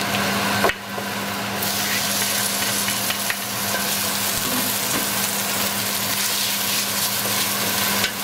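Tomatoes and galangal root sizzle in a hot pan while being stirred, a steady close frying hiss with a low constant hum running underneath and faint utensil movement throughout.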